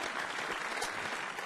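A concert audience bursts into dense, steady applause, a loud continuous wash of many hands clapping with no break.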